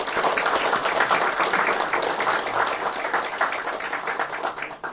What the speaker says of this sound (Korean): 그분들을 위해서 박수 드리겠습니다.